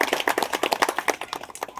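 A crowd at a local gathering in Chalisgaon claps in quick, fairly even bursts, the hand claps sounding close and distinct rather than blending into a roar, with no talking over them.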